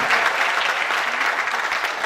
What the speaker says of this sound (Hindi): तन्मय के लिए तालियां।